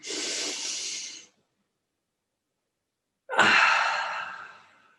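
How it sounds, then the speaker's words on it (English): Two deep breaths during a qigong session: a long inhale lasting about a second, a pause of silence, then a fuller, breathy exhale that trails off slowly, close and clear with no talking. "Biggest breath as you can manage."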